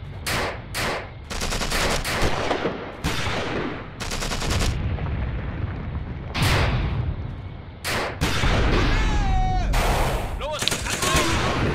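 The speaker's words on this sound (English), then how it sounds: "I'll call off the bombardment for now" Artillery bombardment and gunfire in the war game Achtung Panzer Operation Star, with loud repeated explosive bursts and rattling fire in close succession and a brief whistling shell near the end.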